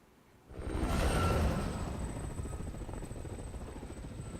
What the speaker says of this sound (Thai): เปิดมาด้วยเฮลิคอปเตอร์